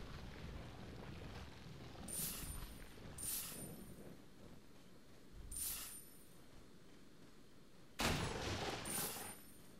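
Several sharp gunshot bursts from the video game Resident Evil 4, spaced a second or more apart with a louder final shot near the end, set over a steady ambient background.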